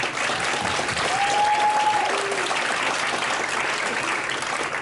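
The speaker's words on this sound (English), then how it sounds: "if you'd give them another round of applause" A university research-talk audience gives the competition judges another round of applause, dense even clapping filling the whole moment at a constant level with no speech on top.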